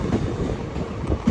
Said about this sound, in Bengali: প্রচণ্ড হারে টেনেছে ট্রেনটা